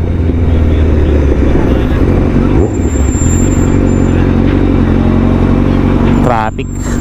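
A Honda CBR1000RRR motorcycle engine idles loud and close as it warms up, a steady low drone with a brief blip near the end, while someone talks over it.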